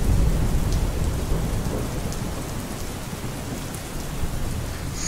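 Heavy rain pouring steadily during a storm in Brazil, with deep rumbling thunder underneath and a dense hiss throughout, loud and continuous with no talk.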